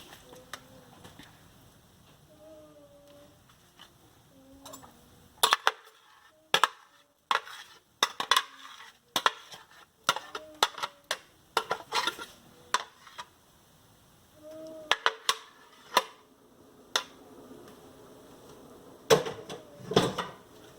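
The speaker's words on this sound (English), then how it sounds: "We'll be using the same spoon as we are going to mix everything together" A spoon mixing mango puree, sweetened condensed milk and other mango ice cream ingredients in a bowl, giving a close series of sharp taps and scrapes against the bowl that turn busier in the middle and again near the end, with no voices.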